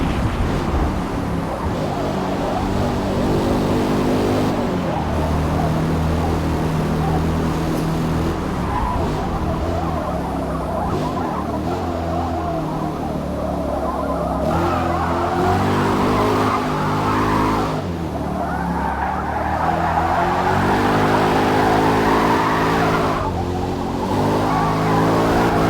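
A race car in Forza Motorsport roars continuously through a slide, with the engine note shifting and tire squeal and skidding rising over it.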